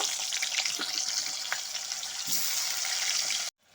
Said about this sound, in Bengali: সেদ্ধ আলুগুলো একটু ভেজে নেব